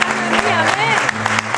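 Church congregation applauding together, a dense wash of clapping with crowd noise and a voice speaking over it throughout.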